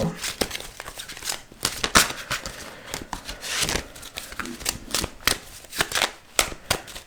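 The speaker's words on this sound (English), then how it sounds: "I'm going to pull a few more clarifying cards too." Tarot cards being pulled, shuffled and handled during a pick-a-card reading, a steady run of close, crisp papery flicks, slides and taps at irregular rhythm with no talk over them.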